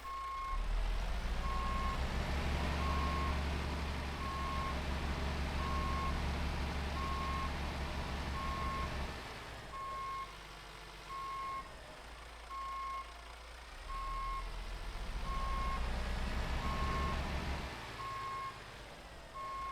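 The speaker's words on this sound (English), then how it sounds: "See if I've lost my ability to reverse a conventional truck" Reversing beeps from a Mack R truck in American Truck Simulator, evenly spaced high tones repeating throughout over a steady low diesel engine drone that dips quieter midway then returns.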